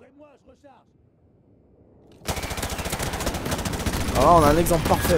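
Someone speaks French over quiet game sounds, then dense, rapid automatic gunfire from the Modern Warfare Remastered video game bursts in loudly and keeps rattling as he continues talking.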